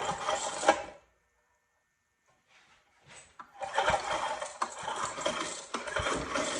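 Recoil starter pulled on an old Pincor generator small engine with no spark, two bursts of rattling, whirring cranking noise separated by a quiet gap, close and fairly loud.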